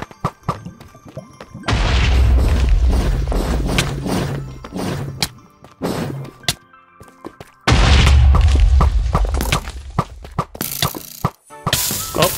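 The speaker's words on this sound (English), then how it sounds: "Are those exploding webs?" Explosive booms and heavy thuds from exploding webs in the video game Mineward, loud bursts in two dense clusters separated by quieter stretches with scattered knocks.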